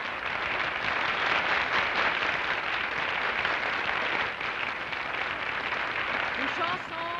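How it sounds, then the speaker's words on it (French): A studio audience at a Québec variety show applauds, a steady, even hiss of clapping that holds for several seconds before easing slightly. "On applaudit."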